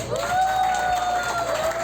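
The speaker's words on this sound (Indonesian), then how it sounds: "tepuk tangan" Applause from a crowd at a family fast-breaking gathering, steady and dense throughout, with a voice talking over it and a faint tonal hum running underneath.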